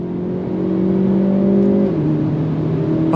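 A 2024 Hyundai Elantra N accelerates hard on the throttle, its engine note climbing steadily in a loud, close drone before a shift drops the pitch, with no talking.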